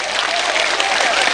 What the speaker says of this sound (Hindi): आपकी तालियां शामिल हो जाएं।